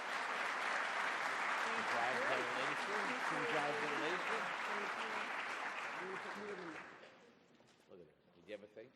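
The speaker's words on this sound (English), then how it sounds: "Give them a big round of applause." Audience applause at an investment manager conference award presentation, loud sustained clapping for about seven seconds with voices mixed in, then fading as a few people begin speaking.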